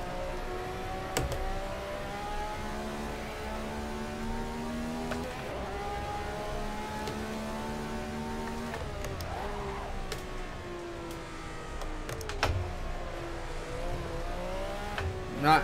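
A Ferrari 312 historic race car in a racing video game at Spa, its engine tone sweeping up and down through gear changes under braking, steady and close, with brief clicks and a sharp bump near the end.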